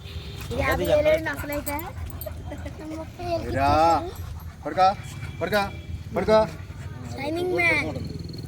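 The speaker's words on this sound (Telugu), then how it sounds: "మంచి మోడల్ కుక్కలాగా ఉందండి" A dog whimpers and yips in short bursts, with soft panting, while a person talks nearby.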